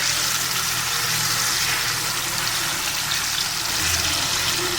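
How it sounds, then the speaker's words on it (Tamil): Fish frying in a pan for a Sunday lunch, a steady broadband hiss and crackle of hot oil that holds even and fairly loud throughout, with no voices over it. "மீன் போட்டாச்சு வறுத்து எடுத்துருவோம்"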